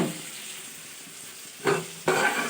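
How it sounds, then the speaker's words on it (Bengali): Tomato sizzles as it fries in a pan for an okra dish, a constant close hiss broken by two louder stirring bursts near the end. "টমাটোটা একটুখানি লাল লাল করে ভেজে নিচ্ছি"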